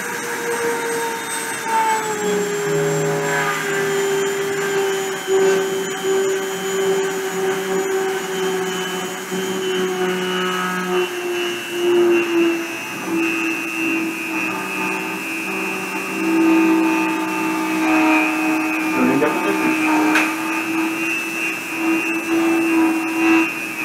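Spindle running at 30,000 RPM during friction deposition, a loud, steady high-pitched whine with layered tones that drift slightly in pitch for over twenty seconds, with no talking.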